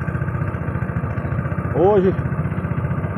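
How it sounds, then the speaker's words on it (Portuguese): Small boat motor idling steadily on the Jati reservoir dam water, a close, continuous low putter with a brief rising whine midway, heard under a person talking. "Esse barulhozinho aí da... é o barulhozinho do motor, né?"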